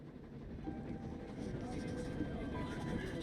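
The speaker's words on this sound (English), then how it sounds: "And so I'm on a train heading out of Germany" Steady low rumble of a train travelling out of Germany, a continuous interior drone of moderate loudness with no distinct clatter, carrying on unbroken throughout.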